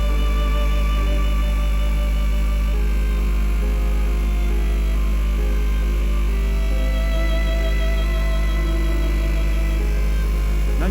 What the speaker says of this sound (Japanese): 何か気になる音がしていますが、天井の換気扇でした。